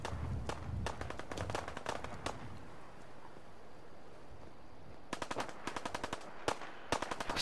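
Gunfire from a weapon in the video game Fallout 4 comes in quick automatic bursts of sharp cracks, with a rapid string early on, a quiet pause, then more clustered bursts over a faint background.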